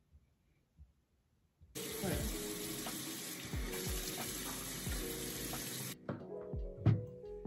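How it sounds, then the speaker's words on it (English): Tap water runs steadily into a bathroom sink as a face is washed in cold water, a continuous splashing hiss lasting about four seconds, then stopping, followed by a few soft drips and handling noises. "I'm just gonna wash my face in cold water"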